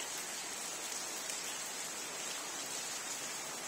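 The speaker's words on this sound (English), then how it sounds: "With all that rain coming down there. That's how bad it's raining outside." Steady, heavy rain falls outside an abandoned factory, a dense continuous hiss with even loudness throughout and no talking.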